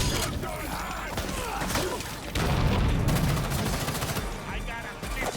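Rapid gunfire and loud combat effects from the Gotham Knights video game on PC, dense and continuous with booming hits layered over a dull background rumble.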